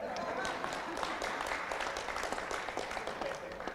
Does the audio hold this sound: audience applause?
yes